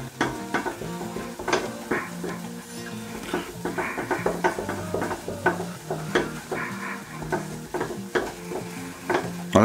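A flour and butter roux is stirred in a pan as it cooks, with a utensil scraping and knocking repeatedly against the pan over a light sizzle, close and fairly quiet, with no talking.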